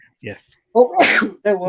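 A man sneezes once, a sharp burst set between short stretches of conversational speech from nearby voices.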